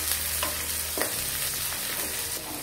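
Curry leaves and onion frying in hot oil for uppittu, a steady close sizzle with brief stirring scrapes and no voices.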